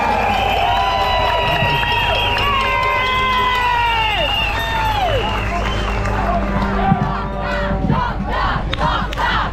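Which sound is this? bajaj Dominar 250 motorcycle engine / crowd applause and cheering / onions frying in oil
crowd applause and cheering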